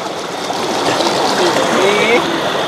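A river stream flows steadily enough to turn a water-powered rotisserie roasting a whole chicken, giving a constant, fairly loud rush and trickle of moving water.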